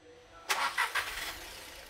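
A car engine with its exhaust camshaft set one tooth (15 degrees) advanced cranks and starts abruptly, with a few uneven bursts before settling into a steady running noise, close to the microphone.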